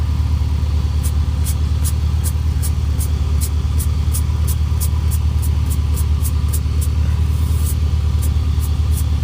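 A 1998 BMW E39 540i V8 idles through a Magnaflow muffler, giving a loud, steady low exhaust rumble close by, with faint regular ticking over the top and no talking.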